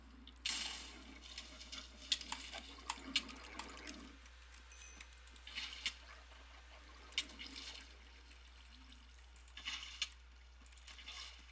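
Minecraft water flows over grass to clear it, quiet gurgling and splashing in irregular bursts with small clicks, and no voices.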